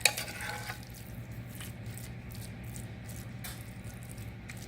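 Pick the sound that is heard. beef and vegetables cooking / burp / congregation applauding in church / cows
beef and vegetables cooking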